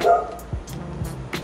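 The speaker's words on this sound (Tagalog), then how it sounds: "Parang daming aso. Parang pinagbabantaan tayo." A few dogs bark and yip in short bursts, one sharp and close, others fainter in the distance, over a quiet outdoor background.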